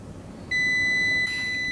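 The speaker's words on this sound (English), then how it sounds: "So simply, we should hear a beep, because it has to be short." Multimeter continuity tester beeping on a shorted antenna LMR cable: one steady, clear electronic tone that switches on abruptly and holds for over a second, shifting slightly near the end over a quiet background.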